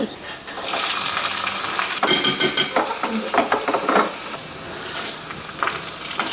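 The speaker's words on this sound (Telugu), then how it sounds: "చక్కగా ఈ వేడి వేడి పోపుని అందులోకి వేసేసుకోవాలి" Hot oil tempering with chana dal and urad dal poured into a dish of preserved pickle-style chukka kura (sorrel greens), giving a loud, continuous sizzle and crackle with bursts of stirring and spoon clinks, no talk.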